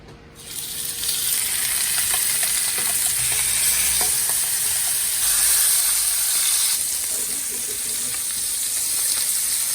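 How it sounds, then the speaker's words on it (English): Skirt steak hits a very hot cast iron pan slicked with avocado oil, bursting into a loud, steady hiss of sizzling that holds throughout, close and unbroken with no talking. "I have my cast irons ripping hot. I'm gonna add some avocado oil to it. Mix that around. Now we're gonna throw in our skirt steak."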